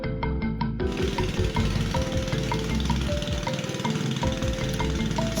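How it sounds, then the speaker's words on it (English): A loud, continuous borehole drilling rig in a Nigerian village pounds and rattles steadily, with a constant engine drone and rhythmic knocking throughout. "this is the process of drilling a borehole"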